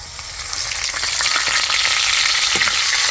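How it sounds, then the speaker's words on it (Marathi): Cumin, mustard seeds and curry leaves sizzle in hot oil in a kadhai, a dense steady crackling hiss with scattered pops that grows slightly louder and continues without pause. "आता मोहरी टाकते, कढीपत्ता टाकते"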